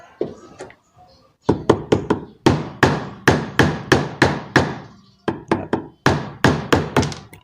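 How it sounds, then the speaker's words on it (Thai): A hammer taps lightly on a nail driven against a wooden block to knock out a fan shaft, giving a quick series of crisp close knocks in uneven bursts with short pauses between them. "ใช้ตะปูนะครับ ใช้ค้อนตอกเบาๆนะครับ"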